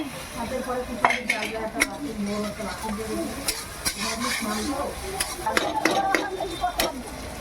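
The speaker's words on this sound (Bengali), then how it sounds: "এবার কিন্তু চলে যাচ্ছে রসুন বাটা।" Garlic paste sizzles in a hot pan with onion and chili for a dal tadka, with a spoon steadily stirring and scraping against the metal in repeated sharp clinks over a continuous close frying hiss.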